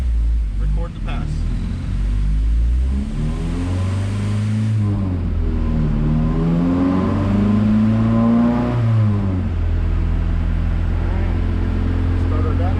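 An H22A-swapped Honda Civic EK strains on a dyno in third gear, a loud engine note rising steadily through a long pull before settling, with a voice talking over it near the start.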